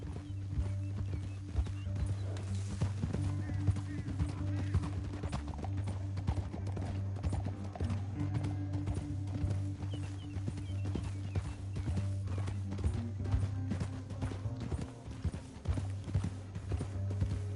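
Horse hooves clip-clop steadily in the Red Dead video game, a continuous rhythmic trot with an occasional whinny, sounding fairly close beneath a low droning background.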